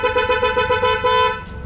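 Yamaha NMAX scooter horn mounted with the compartment closed blares in a steady, loud, close tone with slight pulsing for over a second, then stops.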